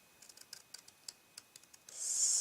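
Scissors snip at the ends of paper treat bags: a quick run of faint, close clicking cuts, then a louder brief rustling swish at the end.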